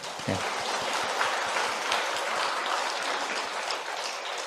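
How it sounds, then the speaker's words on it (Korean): Congregation applause at a Korean church sermon on forgiveness and reconciliation, a dense steady wash of many hands clapping together that holds evenly throughout, close and full, with no talk over it. "박수 한번 쳐주시고요."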